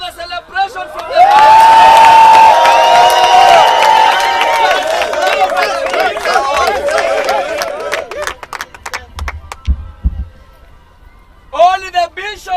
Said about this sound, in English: as you can hear, they are really celebrating